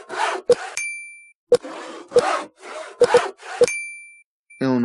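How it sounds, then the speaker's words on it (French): In the video game Crafting Kingdom, a small bell chimes as a newspaper finishes producing, ringing out briefly among repeated short scraping click sounds, with a voice starting right at the end. "on entend la petite cloche lorsque le journal a fini de produire"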